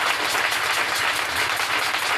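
A church congregation at an evening service applauds Jesus, steady dense clapping from many hands filling the room without a break.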